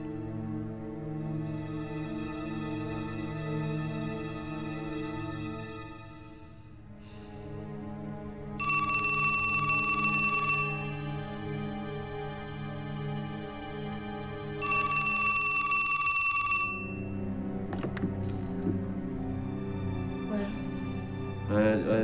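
A telephone bell rings in two long bursts, each about two seconds, over a steady music bed in a period suspense drama scene.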